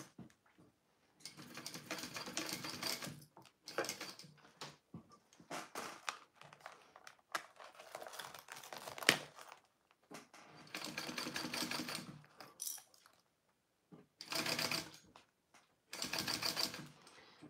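A sewing machine stitches a zipper onto clear vinyl for a peek-a-boo pouch. It runs in several short whirring bursts separated by quiet pauses as the work is repositioned, close and fairly soft, with no speech.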